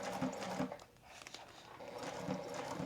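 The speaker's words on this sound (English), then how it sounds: "So I'll just do a couple stitches," A sewing machine making a few stitches and a back stitch in a zipper repair, a soft mechanical whirr in short bursts, fairly quiet.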